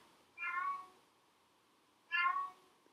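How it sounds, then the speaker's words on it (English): A cat meows twice, short and fairly faint, with a quiet pause between the calls. "my cat has to make noise in the background as soon as I record"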